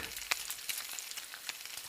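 Steady crackling sizzle of sausages frying in a pan, with sharper pops and spits breaking through now and then.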